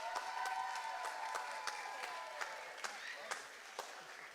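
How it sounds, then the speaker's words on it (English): Sparse applause from a school audience after a combined middle and high school orchestra concert, faint and distant, with scattered claps and voices murmuring through it. "Let's give them all a round of applause again."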